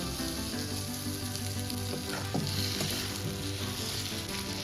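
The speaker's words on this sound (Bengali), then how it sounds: "এবার দিয়ে দিচ্ছি ভাজা মাছগুলো।" Loud, steady sizzle of fried fish going into hot spice paste for prawn malai curry, with faint stirring clatter partway through and no voices.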